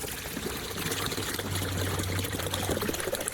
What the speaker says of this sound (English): I'm going to pour a gallon of water in the bucket.